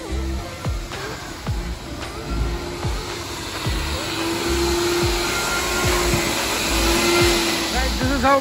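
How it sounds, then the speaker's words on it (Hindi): A vacuum cleaner running steadily while cleaning a car at a car wash, a constant loud whine and hiss with intermittent thumps and knocks as the nozzle moves around the interior. "अभी वैक्यूमिंग हो चुका है"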